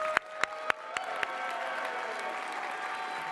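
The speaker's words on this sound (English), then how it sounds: "Howard McKenzie, a round of applause." Audience applause at an engineering deans' recognition event, a crowd clapping steadily with a few sharp claps at the start, then settling into a sustained wash of applause.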